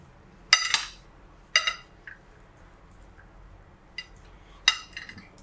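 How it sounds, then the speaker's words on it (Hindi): A spoon mixing cut fruit in a bowl for Pakistani fruit chaat, four sharp clinks against the bowl spaced about a second apart, with faint soft shuffling between them and quiet gaps. "इनको हम सबको मिक्स कर लेंगे पहले"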